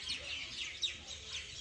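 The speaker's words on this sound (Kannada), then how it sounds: "ಹಕ್ಕಿಗಳ ಸೌಂಡ್ ಕೇಳಿ ಹೆಂಗೆ ಕೇಳುತ್ತೆ" Birds calling in a village, a few faint chirps and clucking notes that could be chickens, spread thinly over quiet background noise.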